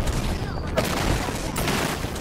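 Rapid bursts of gunfire in the video game Apex Legends, dense and loud with a sustained crackle over a steady background, while a voice talks underneath.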